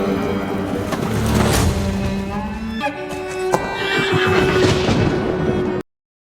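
A horse in a film scene gives a loud, drawn-out whinny that rises and falls, with a second call following, before the sound cuts off abruptly to silence.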